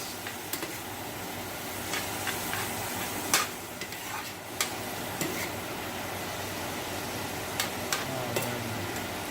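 Onions frying in a pan give a steady close sizzle throughout, broken by a few sharp clicks and scrapes of stirring, with no talking.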